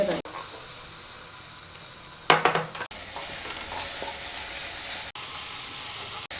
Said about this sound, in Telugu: కరివేపాకు వేసిన తర్వాత ఇగోటి ఇలాగ అల్లం వెల్లుల్లి పేస్ట్ అనేది ఇందులో వేసేయాలి